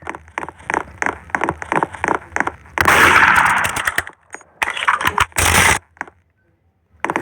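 Gunshots in the Roblox game Murder Mystery 2, loud close bursts of rapid firing in several separate volleys, broken by brief pauses and ending in near silence.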